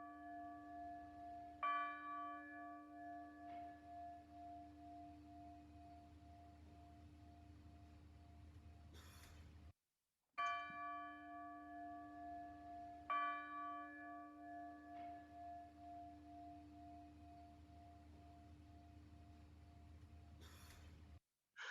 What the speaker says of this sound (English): the bell is at least a bit brighter because the bell is now in tune with itself